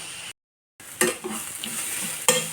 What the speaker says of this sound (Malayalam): ഒന്ന് നല്ല ഹൈ ഫ്ലെയിമിൽ ഇട്ട് കൊടുക്കുക എന്നിട്ട് നല്ലോണം ഇളക്കുക